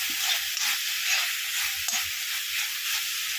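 A bitter gourd stir-fry with optional coconut crackles and hisses steadily in a hot pan while being stirred, with soft scraping strokes beneath the constant loud sizzle and no voices.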